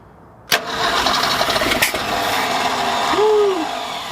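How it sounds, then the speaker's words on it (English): An old 1966 car engine, fed from a jerry can, fires up with a sharp backfire pop, then a second crack, before settling into a rough, close idle. "Little backfire action."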